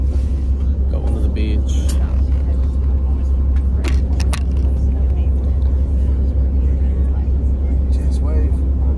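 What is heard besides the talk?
bus driving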